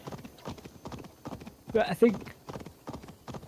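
Horse hooves clip-clopping in the video game Assassin's Creed Valhalla, a steady rhythmic beat of hoofsteps under continuous talk, with a brief louder rise partway through.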